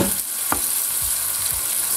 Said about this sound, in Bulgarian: така позапържваме пръза да омекне